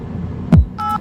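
Telephone dialing tones, a short electronic touch-tone beep near the end following a brief thump, close and clear over a low hum.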